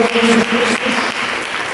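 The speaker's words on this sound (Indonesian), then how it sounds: "Mari berikan tepuk tangan yang mulia." A church congregation gives a short burst of applause after the preacher's call, with dense hand clapping at fairly loud volume and a faint hum of voices underneath.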